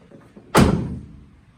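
A 1969 Chevy Corvair car door shuts with one solid, close thump that decays quickly, after a moment of quiet.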